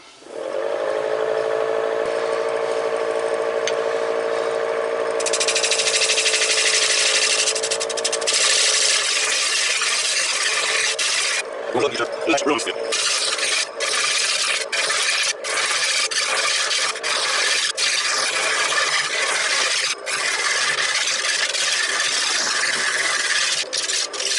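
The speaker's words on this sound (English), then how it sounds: "So we're gonna cut this tenon out." A wood lathe spins a serving platter while a tool cuts a tenon, first a steady motor hum, then loud scraping and rasping bursts from the cut, close and continuous.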